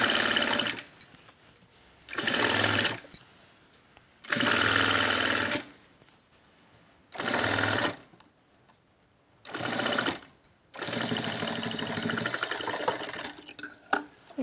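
A sewing machine stitching an invisible zip into cloth, about six loud whirring runs of rapid needle strokes separated by short pauses, close by with no talk.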